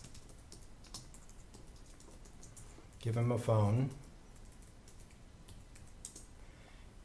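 Quick clicks of typing on a computer keyboard, entering an address record, run as a short burst under a brief spoken phrase amid soft room noise.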